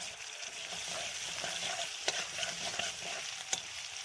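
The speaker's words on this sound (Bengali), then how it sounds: "ভালো করে নাড়াচাড়া করে নিচ্ছি" Crushed garlic paste, around twenty to twenty-five cloves, sizzles steadily in a pan for a pabda fish dish, with brief scraping clicks as it is stirred and no one speaking.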